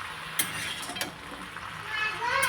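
Jujube pickle frying in a pan while being stirred: a steady sizzle with a couple of sharp utensil knocks against the pan, close and moderately loud.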